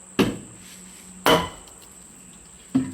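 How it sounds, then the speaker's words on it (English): A homemade wooden log hammer strikes a metal froe set into a long log being split, three sharp, separate whacks spaced about a second apart, close and clear over a quiet background. "I'm going to take this hammer that I made out of a different log, and I'm going to whack the froe"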